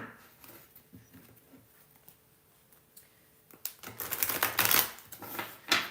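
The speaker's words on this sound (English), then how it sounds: "So let me shuffle the cards." Tarot cards shuffled by hand, a quiet soft riffling and tapping at first that builds after a few seconds into louder, dense flurries of papery card flutter close to the microphone.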